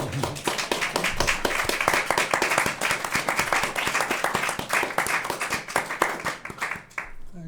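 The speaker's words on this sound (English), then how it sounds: "Big round of applause for Dr. David." A jazz event crowd on International Jazz Day applauds, with many crisp individual hand claps standing out in a lively, uneven burst that runs for about seven seconds and then thins out.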